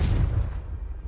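A Confringo explosion spell cast in the video game Hogwarts Legacy goes off as one loud, deep, rumbling boom that fades over about a second.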